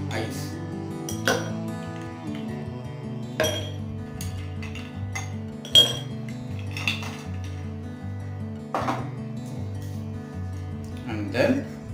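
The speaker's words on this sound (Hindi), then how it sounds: "उसमें have to fill with ice" Ice cubes clink and knock into a tall glass in several separate bursts while a Floridora gin cocktail is made, over a steady musical background.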